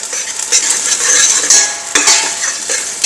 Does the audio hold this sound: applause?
no